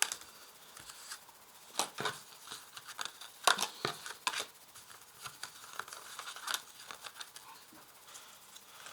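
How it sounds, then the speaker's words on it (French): Tarot cards are cut, chosen and laid out on a table as a quiet series of soft slaps, flicks and papery rustles, with sporadic sharper taps spread irregularly across the clip. "Je choisis donc 5 cartes"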